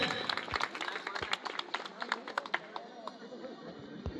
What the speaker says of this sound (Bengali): জোরে করতালিতে উৎসাহিত করুন ছাত্রীদের